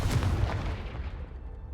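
A Confringo spell blast in Hogwarts Legacy lands as a single heavy, booming explosion that rolls out and decays over a second or so.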